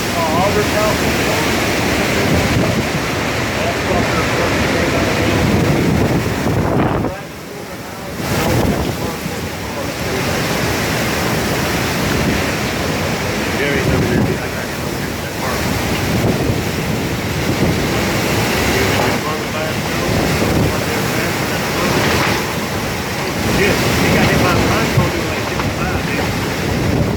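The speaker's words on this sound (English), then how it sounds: "this is what 150 mile an hour winds feels like" Hurricane-force wind of about 150 mph roars without a break, loud and buffeting the microphone in heavy gusts with one brief lull, while a person talks underneath.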